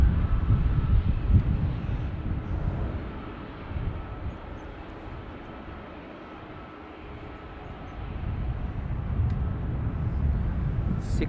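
An Aer Lingus airliner in from Lyon arrives on the north runway at Dublin Airport, its engines a steady broadband roar that swells, eases to a lull mid-way, then builds again at moderate distance with no talk.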